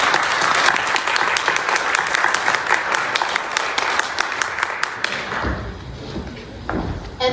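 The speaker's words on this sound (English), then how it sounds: "So let's give them a round of applause." Audience at a League of Women Voters candidates forum applauds steadily for several seconds with dense, close clapping that thins toward the end, a few louder claps and a brief murmur trailing off.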